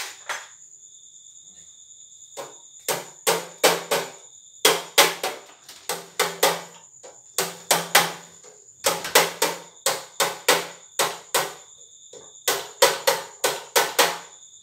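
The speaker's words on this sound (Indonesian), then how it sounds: "Untuk apa pakai ini palu karet." A rubber mallet taps on the upper tank of a Toyota Kijang radiator being opened, making crisp, sharp knocks in quick clusters of three to five that repeat steadily with short pauses between them.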